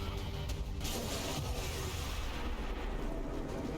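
A loud, sustained rumbling blast with dense low-end roar and crackling noise, continuous throughout with no talking.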